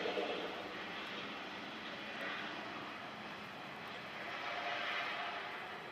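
A jet airliner takes off from a runway at Washington Dulles airport, its engine roar broad, loud and steady across the whole stretch, swelling slightly near the start and again toward the end, with no voices.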